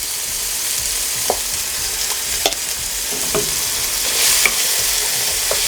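Garlic cloves frying in olive oil in a pan give a steady, close hiss of sizzling, broken by a few sharp clicks and scrapes of stirring; no one speaks.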